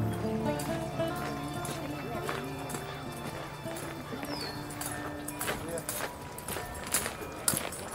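Steady clip-clop of horse hooves trotting along, layered under music and background talk throughout.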